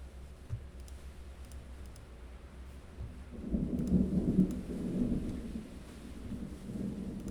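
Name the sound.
thunder during a thunderstorm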